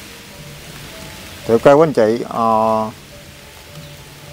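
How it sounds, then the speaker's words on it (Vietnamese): Heavy rain falls in a cemetery at night as a steady, soft wash of drops, continuing under a short burst of someone speaking in the middle. "ở đây giờ đang mưa lớn nữa"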